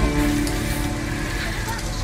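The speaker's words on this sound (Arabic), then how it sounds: "الدنيا مطر يا شباب، الدنيا مطر" Steady rain pours in the video game Detroit: Become Human, a dense continuous hiss of drops on surfaces, with low background game sound and no pauses.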